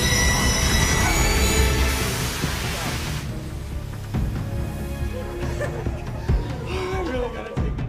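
A hijacked, driverless train brakes to a sudden stop as track brakes engage, its wheels letting out a loud, harsh metallic screech that fades after about three seconds into rumbling and scattered clanks, with voices under it.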